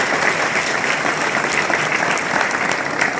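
Dense applause from an audience at a college speech event, sustained and even, loud and close, filling the whole moment without voices.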